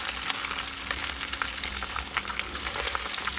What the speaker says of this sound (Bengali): মাছগুলি উল্টে আর এক পাশটা ভেজে নিতে হবে